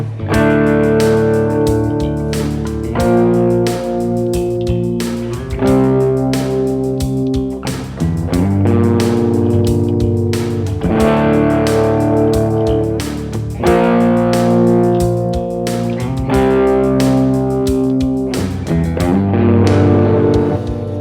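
An electric guitar played through a distortion effect in a soft rock style, with strummed, sustained chords ringing out loud and continuous and shifting in dynamics, with no voices over the playing.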